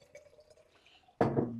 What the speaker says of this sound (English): I'll just pour it in there.